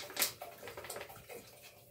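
Water pours into a cooking pot holding sweated garlic and onion, a close splashing gush that starts with a bright splash and settles into a steady trickling flow for about two seconds.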